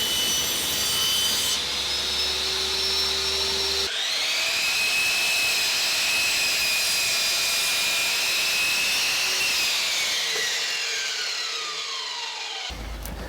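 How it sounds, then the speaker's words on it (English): A table saw rips wooden boards to size with a loud, sustained whine that shifts in pitch as the blade cuts through the wood, then tails off near the end. No one speaks. "table saw."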